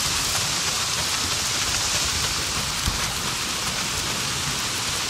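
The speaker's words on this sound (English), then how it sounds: "not if it's pissing down rain" Heavy rain pours down steadily in the video game Days Gone, a dense, continuous hiss with no voices, and one brief low thump partway through.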